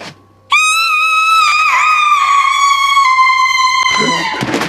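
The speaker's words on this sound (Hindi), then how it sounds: "वो क्रीपी आत्मा आकर बुरी तरीके से चिल्लाने लगती है।" A creepy ghost in the Japanese horror film Sakebi lets out a loud, sustained, high-pitched shriek lasting about four seconds, wavering slightly before breaking off into a rough burst at the end.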